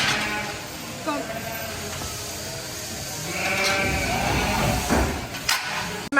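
Sheep bleating repeatedly at close range in a pen during shearing, with scuffling and shifting movement around them and some brief rustling noise.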